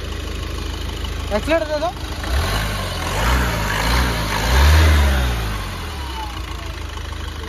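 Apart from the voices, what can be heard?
Ford EcoSport Titanium 2018 engine idling and revving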